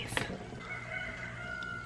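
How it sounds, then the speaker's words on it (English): Roosters crow at midday on a farm, a clear cock-a-doodle-doo rising and holding for over a second, with a few clucks and a steady low hum behind. "listen to those roosters"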